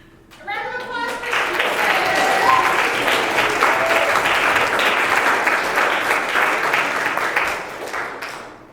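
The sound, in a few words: audience applause at school theater performance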